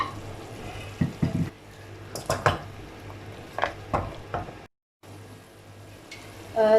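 Tomato paste fries in oil in a pot for mutton kabsa, with soft sizzling under several sharp spoon scrapes and clanks against the pot, a brief silent gap, then more stirring.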